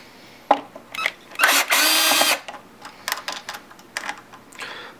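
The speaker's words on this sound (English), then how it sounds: "What you want to do now is take these two screws right here and just take them out." A screwdriver or power driver takes two screws out of a Technics 1200 turntable: close clicks and rattles, then a sustained whirring burst of about a second, followed by more handling clicks.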